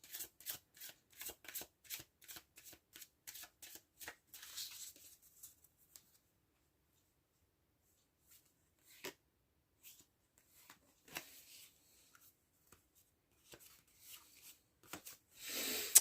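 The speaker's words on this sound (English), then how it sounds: "finish shuffling this particular deck" A deck of tarot cards riffles and snaps in a quick, steady run of shuffles, then stops, followed by occasional softer riffles and shuffles at low volume.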